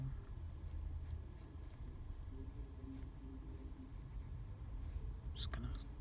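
A pencil sketches on flimsy drawing paper while a master figure drawing is copied, giving faint, soft scratching strokes in short bursts. A quiet murmuring voice sits low underneath.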